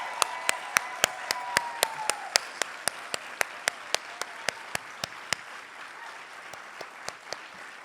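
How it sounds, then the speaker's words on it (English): Applause at the opening plenary of a national arts gathering, heard as sharp, evenly spaced claps that sound like a single pair of hands beating a steady rhythm, loud and close, over a faint room murmur and a brief tonal sweep early on. "can we please give Wood a huge round of applause?"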